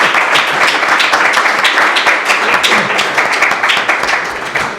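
Sustained applause from an audience at a talk about a cabinet of wonders and mysteries, dense steady clapping lasting throughout and tapering slightly at the end, with no voices over it.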